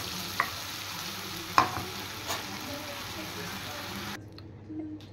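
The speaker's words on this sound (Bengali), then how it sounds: "এবার আমি মেখে রাখা মাছগুলো ছেড়ে দিচ্ছি।" Marinated hilsa fish frying in mustard oil in a wok, a steady close sizzle with a couple of sharp spatters and a clink of a spatula, cutting off abruptly near the end.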